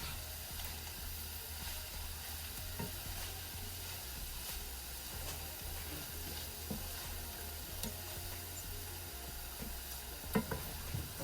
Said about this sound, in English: Now we stir it up.